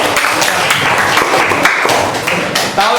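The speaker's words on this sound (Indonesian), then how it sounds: "Oke, tepuk tangan ya." Classroom audience applauds during an open class, a loud burst of overlapping claps with irregular taps throughout, close and sustained.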